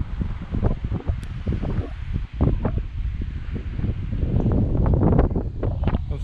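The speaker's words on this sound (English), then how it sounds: "see what the wind sounds like without the cover on" Wind buffeting a GoPro microphone with no windshield cover, a loud continuous low rumble and thumping gusts that swell toward the end, with no voices.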